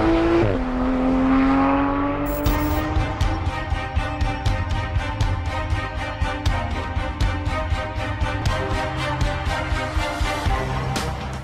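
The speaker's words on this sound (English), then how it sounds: "The engine, it all just makes your heart leap for joy." A 2016 Porsche 911 GT3 RS engine revs hard on the move. The pitch climbs, drops briefly at a gear change, then climbs again in a loud, rapidly pulsing howl.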